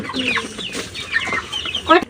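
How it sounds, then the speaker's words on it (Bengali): Chickens clucking while eating feed outdoors, several quick close clucks and chirpy calls over about two seconds. "এই পাশে মুরগিগুলো বাইরেই খেতে দিছি খাচ্ছে"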